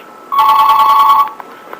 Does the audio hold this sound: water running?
no